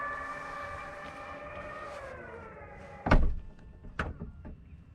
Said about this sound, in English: Push the button and that trunk goes down